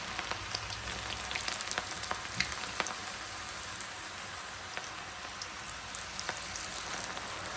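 Pakoda batter dropped into hot oil in a frying pan, giving a steady, close, bright sizzle with crackling pops and spits that keeps going throughout, with no talking.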